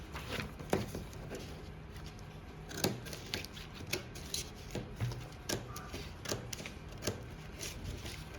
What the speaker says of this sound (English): Just to trim off the excesses I have on the pattern.